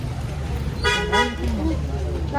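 Car horns honking in a jammed road in India, a couple of short, bright toots close by over the low rumble of traffic while people talk.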